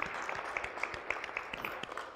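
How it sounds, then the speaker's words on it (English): A church congregation claps in a steady, moderately loud round of applause during a service, with a faint repeating tone running underneath. "give him a round of applause here"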